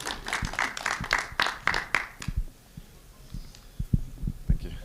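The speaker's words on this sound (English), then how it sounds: "Can we give him a round of applause as he comes forward?" A burst of audience clapping that thins out into a few scattered claps and light thumps.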